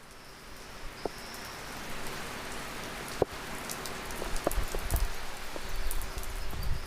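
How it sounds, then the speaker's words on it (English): Torrential rain pouring steadily over a rural Ghanaian community, a dense continuous hiss of drops on surfaces with a few nearer individual splats, no voices. "torrential rain began to cover Kugzua and the surrounding communities"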